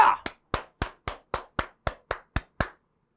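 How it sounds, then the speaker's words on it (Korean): About eleven sharp, evenly spaced claps ring out one after another in a slow, steady rhythm, close and crisp with silence between them. They are given for a Korean history lecturer during a court civil service exam review lecture. "여러분, 박수 한번 주세요!"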